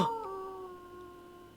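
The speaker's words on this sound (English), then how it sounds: "We hear a wolf howling." A wolf howls in the Don't Eat the Cashier video game, one sustained, wavering cry that starts loud and slowly fades as it trails off, with no talking.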